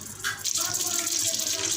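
Running tap water splashing over hands at a kitchen sink during stuffed eggplant cooking, a continuous close stream with small shifts in splash as the hands move, no voices.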